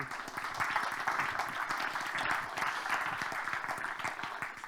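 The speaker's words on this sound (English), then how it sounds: "I think you're applauding that this is the last session." Applause from a conference audience greeting the moderator of the final session at a forum on leading Europe: a dense, steady patter of many hands at moderate level, heard from a distance, with no clear voices over it.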